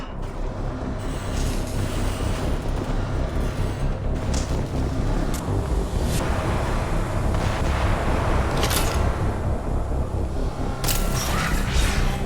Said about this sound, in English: Shield yourself from the blast.